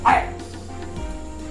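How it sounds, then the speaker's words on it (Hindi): Dog barking sound effect, a single short loud bark at the start followed by a quiet low background hum. "कुत्ता भौंक रही है।"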